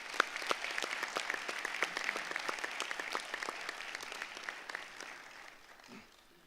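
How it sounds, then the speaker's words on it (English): Conference delegates at an annual general meeting applaud an outgoing chairman, a round of sparse, distinct hand claps at moderate distance that thins and fades out near the end. "I'd ask the delegates to show their appreciation for the role of the outgoing Chairman by joining me in a round of applause."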